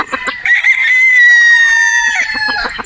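A Boston Roundhead brood stag rooster lets out one loud, close crow, a long sustained call that rises and then falls away, with brief clucks and scuffling before and after it.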